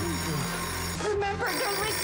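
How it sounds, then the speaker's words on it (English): A red telephone rings in a Stranger Things scene, a bright electronic bell trilling in a continuous burst while people talk over it. "I'm sure that phone's going to ring."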